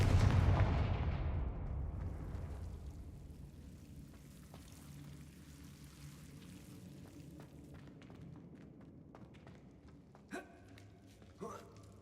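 A heavy explosive blast from a Confringo fire spell in a Harry Potter video game booms loudly at the start, then decays into a long rumbling tail, with a few faint clicks and thumps later on.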